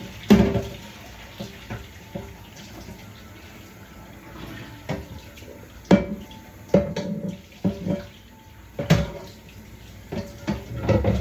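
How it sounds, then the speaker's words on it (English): Tap water runs into a sink while a cooking pot is washed, a low steady flow punctuated by irregular clunks and knocks of the pot against the basin, close and fairly loud. "Just wash the pot right now."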